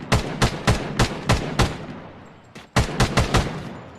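First-person shooter game gunfire: rapid bursts of loud, sharp shots in quick rhythmic strings, pausing briefly before another fast volley, close and with no voices.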